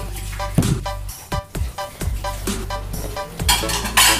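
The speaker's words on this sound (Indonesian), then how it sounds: "Kita aduk lagi" A spoon stirs shrimp peyek batter, with egg and powdered bouillon mixed in, around a bowl. It makes a series of close clinks and scrapes in an uneven rhythm, with no talking.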